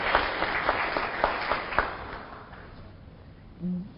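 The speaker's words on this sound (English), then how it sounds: "I'd like to give you a round of applause" Audience applause at a climate fair event, a burst of clapping that starts loud and fades out over a few seconds, with a brief tonal sound near the end.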